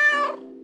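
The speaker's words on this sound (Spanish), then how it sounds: "El gato sale volando del pasillo como una bala." A cat's single drawn-out meow, close and clear, falling in pitch and fading out, from the dating-sim video game Club Romántico Drácula.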